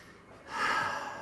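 A voice imitates a sudden sharp gasping breath drawn in after coughing, a single loud intake rising abruptly and holding briefly, heard close and alone.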